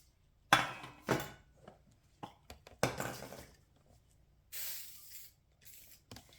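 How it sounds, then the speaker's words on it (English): Several short hissing bursts of canola oil aerosol spray onto a pan, interspersed with light clinks and taps of the pan, followed by a longer sustained spray near the end. "now then, I'm going to spray my pan."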